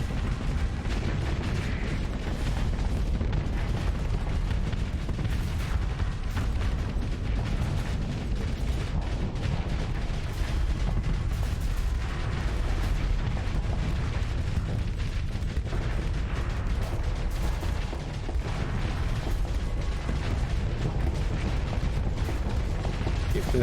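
Ship weapons firing in the space combat game Starsector, a dense rumbling barrage of booms and mechanical blasts that rolls on without pause, loud and close throughout.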